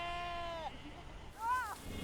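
Two sheep bleats on an Icelandic farm, a drawn-out wavering call followed by a shorter one, faint and heard without talk.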